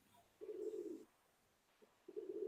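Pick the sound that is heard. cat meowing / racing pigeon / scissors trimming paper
racing pigeon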